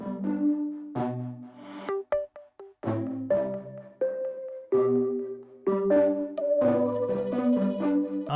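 Layered synthesizer plucks and a custom-designed bell play a short melodic phrase, with bright, percussive notes stepping through chords and a high shimmering bell layer entering near the end, instrumental only.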